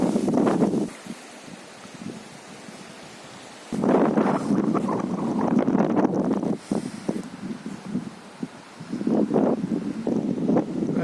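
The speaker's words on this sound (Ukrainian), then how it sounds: "Сьогодні дуже вітряний день." Gusts of strong wind roar and buffet the microphone in a pine forest, rising and falling in waves with calmer stretches between.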